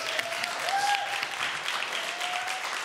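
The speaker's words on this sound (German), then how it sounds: "Aber großen Applaus an euch" Applause from a studio audience at a music talk show, continuous clapping of many hands at a moderate level with a faint tonal sound running underneath.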